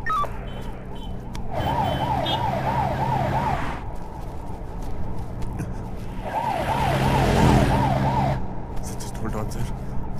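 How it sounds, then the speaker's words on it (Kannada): An ambulance siren wails in two rising-and-falling bursts over steady road traffic noise, growing louder as it passes close by. "ಕೆ ರೋಡ್ ಆಂಬುಲೆನ್ಸ್ ಬರ್ತಾ ಇದೆ ಸಿಗ್ನಲ್ ಕೇರ್ ಮಾಡಿ"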